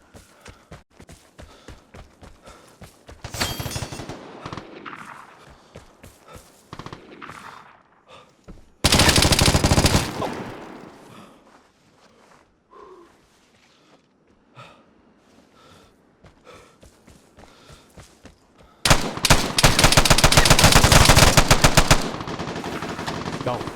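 Bursts of automatic video-game gunfire in the game Vigor, with two long sustained loud volleys, one mid-clip and one near the end, separated by quieter stretches of scattered shots, rustling and movement.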